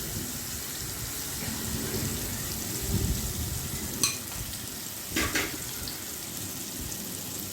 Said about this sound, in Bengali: মশলাটাকে না আমি কষাতে থাকবো